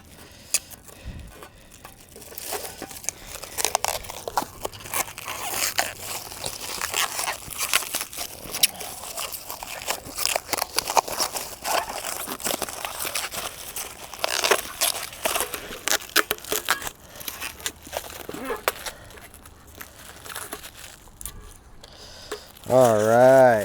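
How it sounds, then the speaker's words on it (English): Protective plastic film being peeled off raised garden bed panels, giving a long run of close crackling, crinkling and tearing textures that carry on steadily, with a brief tonal beep near the end. "I'm gonna be here all day just peeling"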